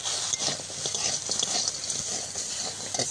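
Chili crab fried in a pan with salt, a dense, steady sizzle with stirring scrapes and clatter running loud and close throughout, no talking.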